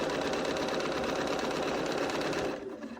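A domestic sewing machine stitches quilt seams in a rapid, steady mechanical whir with close, even motor buzz, stopping abruptly near the end.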